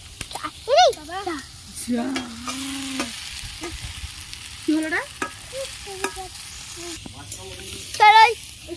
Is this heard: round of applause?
no